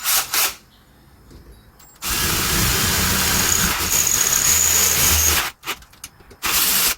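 Power drill enlarging a small hole for an arm rest in a 1977 Chevy C10 pickup, a close, steady whirring burst of several seconds, followed by a shorter spurt after a brief stop.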